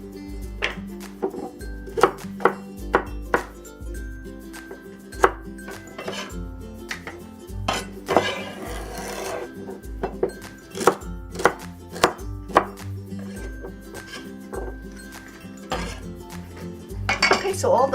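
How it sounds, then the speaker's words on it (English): Knife chopping celery into batons on a cutting board, a run of crisp, fairly regular close thuds with short pauses and a few light clinks of utensils, no talk. "For celery, we'll cut it into like little batons."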